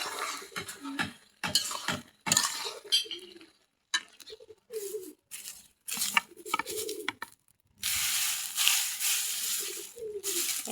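Curry with brinjal and surmai fish being stirred and sautéed in a pan, loud bursts of metal scraping and clattering spoon strokes with short pauses between, close up, with faint bird sounds around.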